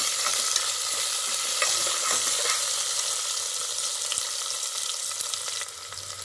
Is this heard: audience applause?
no